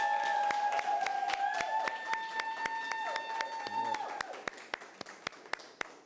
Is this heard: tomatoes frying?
no